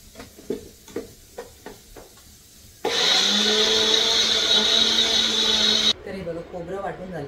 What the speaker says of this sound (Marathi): जे राहिलेलं खोबरं आहे ते पण मिक्सरला बारीक करून घेते